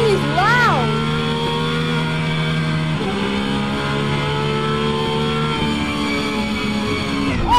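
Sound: car engine revving in Assetto Corsa racing video game

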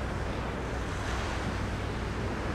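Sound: wind blowing inside a tomb, from video game Tomb Raider

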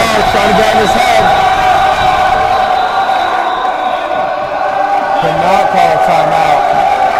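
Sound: crowd cheering at a high school basketball game

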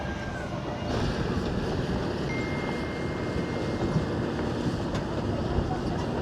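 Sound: strong wind

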